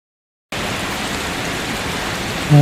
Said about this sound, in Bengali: ঝুলধারে বৃষ্টি হচ্ছে চট্টগ্রাম রেলওয়ে স্টেশনে।